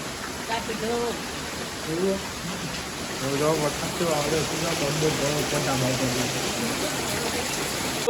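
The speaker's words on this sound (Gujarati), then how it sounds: "વરસાદ ચાલુ થઈ ગયો જોરદાર" A steady wash of heavy rain hisses throughout at moderate loudness in a village while people talk over it.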